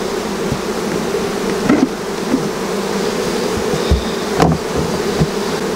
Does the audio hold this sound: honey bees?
yes